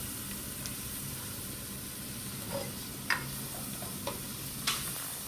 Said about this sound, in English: Now we're heating our vegetables on medium low.